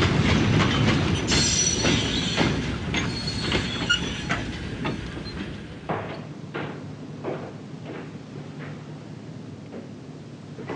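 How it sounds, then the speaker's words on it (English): A long freight train rumbles steadily past at night with squealing wheels, then fades into a rhythmic clickety-clack of wagons rolling over rail joints. "your long hauls on a night time with the freight trains to get them through"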